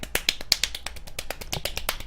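Rapid hand clapping by one person, about a dozen sharp claps rushing by in quick succession, close and alone with no talk.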